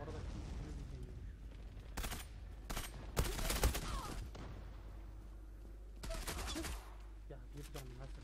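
Bursts of gunfire in the Zula online shooter, with several short volleys of rapid shots, the loudest cluster mid-clip, over a steady low background and some voices.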